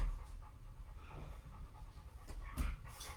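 Dogs pant close by during an indoor yoga session, with quick, soft, breathy puffs in a steady rhythm and an occasional louder huff.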